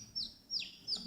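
A human voice imitates a baby chick, three quick high-pitched peeping cheeps evenly spaced, close and fairly quiet.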